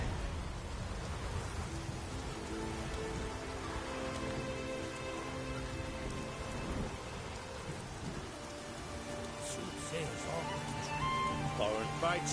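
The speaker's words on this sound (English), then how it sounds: "Looks like rain." Dense rain and low rumbling thunder in the Witcher 3 video game, a constant wash of noise mixed with game music and some voice underneath.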